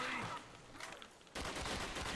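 Rapid gunfire from a weapon in Call of Duty Zombies on the Der Riese map, dense repeated shots with a louder burst near the end.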